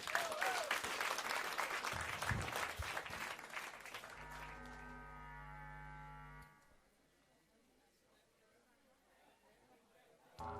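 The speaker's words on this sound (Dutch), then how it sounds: "Ik zou zeggen, hard klappen. Het klinkt ook hard genoeg." Loud audience applause for a band at a live IEPENUP music session, dense clapping for about four seconds that gives way to sustained held tones and then near silence.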